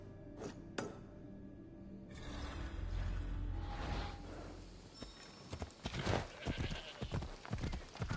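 Rhythmic clip-clop of horse hooves in Assassin's Creed Odyssey, irregular steps over a low rumbling background, with a brief whinny-like sound early on.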